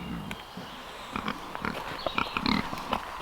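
Pigs grunt and snort in short, irregular bursts nearby, with some rustling and faint background noise.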